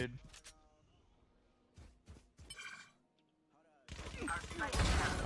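Bursts of gunfire in the video game VALORANT, sharp crackling shots clustered in brief volleys followed by a louder sustained rattle near the end, with voices chatting between the shots.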